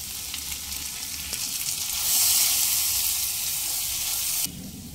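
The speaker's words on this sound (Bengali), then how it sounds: "এইভাবে অল্প অল্প করে 3 থেকে 4 বার অল্প অল্প করে জল দিয়ে দিয়ে প্রায় 5 থেকে 6 মিনিট মশলাটাকে খুব ভালোভাবে কষিয়ে নিয়ে" Ground fried spice paste sizzles loudly in a pan while being cooked down with small splashes of water for a bitter gourd curry, a bright continuous hiss that swells midway, with occasional stirring scrapes.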